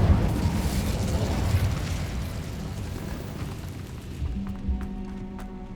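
A fire spell cast in the Hogwarts Legacy video game bursts out as a loud, roaring whoosh that slowly fades over several seconds, leaving a quieter, hollow tail with faint clicks and a low steady tone near the end.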